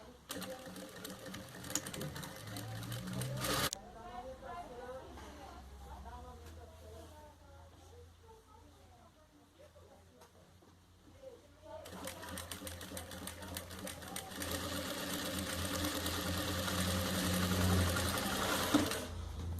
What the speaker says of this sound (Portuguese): Vou dobrar 2 vezes e vou passar a costurinha na beiradinha que tá aberta.